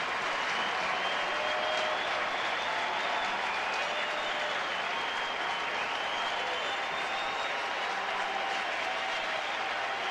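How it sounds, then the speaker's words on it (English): Sustained crowd applause and cheering at a baseball game, Padres at Expos in 1999, as a small crowd rises to its feet in a standing ovation for Tony Gwynn's first at-bat one hit shy of 3,000; steady, dense and continuous throughout. "the crowd, small as though it may be, giving Tony Gwyn an ovation, many of them standing, rising to their feet as he comes up for the first time"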